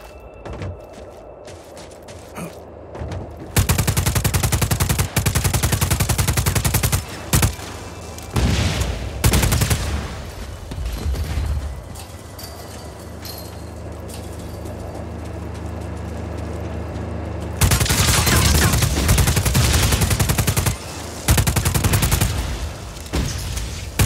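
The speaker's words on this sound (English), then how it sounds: "That's a standard issue Black Hand service rifle" Rapid automatic fire from a Black Hand service rifle in Just Cause 4 arrives in long loud bursts separated by short pauses, along with mechanical clatter, and no one speaks.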